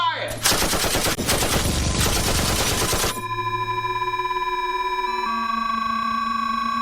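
Dense automatic gunfire in a video game, a loud sustained burst of rapid shots for about three seconds, then ringing electronic tones that fade out.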